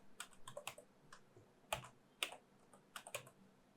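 Keystrokes on a computer keyboard entering a user name during Windows setup in a VirtualBox virtual machine, a quick irregular run of close, crisp taps in small bursts with short pauses, no voices.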